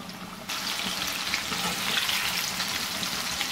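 Chicken pieces frying in hot oil until golden brown, a steady dense sizzle that jumps louder after a brief quieter start and continues unbroken, close and alone with no talk.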